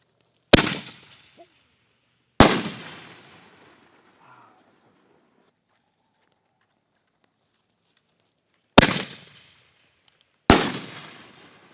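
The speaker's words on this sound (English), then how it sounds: "these are the Triumph shells from Red Apple" Red Apple Triumph firework shells bursting outdoors: four sharp, loud booms, two near the start and two near the end, each followed by a crackling decay, with a quiet gap between.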